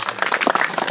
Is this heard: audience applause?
yes